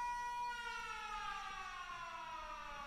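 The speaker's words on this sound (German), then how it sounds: "Er ist durchgegangen, die Sirene ertönt und die Zeit wäre jetzt abgelaufen mit den 9 Minuten." A programmable speaker in the video game Factorio sounds a siren: a steady, tonal wail that rises and falls, heard alone and continuously from start to end.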